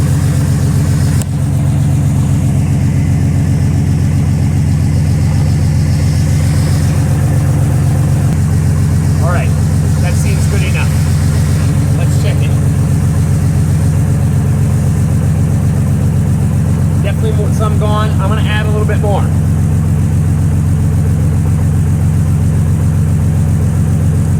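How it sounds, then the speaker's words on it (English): A car engine idles steadily with strong low rumble throughout while the steering wheel is turned during power steering fluid line repair work, with faint squeaks and brief speech over it. "I'm actually in the car turning the steering wheel."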